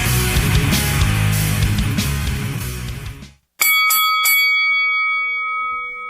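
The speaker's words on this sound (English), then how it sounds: "And there we are, the bell." A wrestling ring bell rings three quick times, loud and metallic, with a long ringing decay after a burst of loud entrance music cuts off abruptly.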